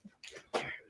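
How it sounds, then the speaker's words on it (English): A couple of short, rough coughs close up, the second louder and longer than the first. "It's really hard not to cough and talk, or talk and cough."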